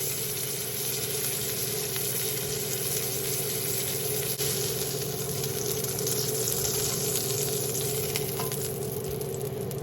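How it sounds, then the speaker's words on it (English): A piece of chicken or salmon sears in a hot pan with a dense, steady, loud sizzle that runs unbroken for the whole stretch, with no voices over it. "I'm going to turn it over on this side. Let that sear just a little bit more."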